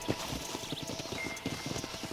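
Horse hooves clip-clopping in Red Dead Redemption, a steady, moderately quiet walking rhythm of soft hoof knocks over faint ambient background, no talking.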